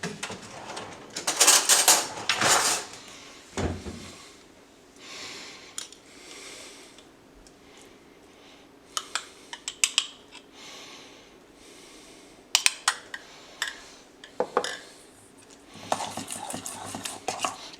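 A separate spoon scoops caviar for a Swedish caviar sandwich cake, producing scattered metallic clinks and scrapes against a dish in short bursts, separated by quiet pauses.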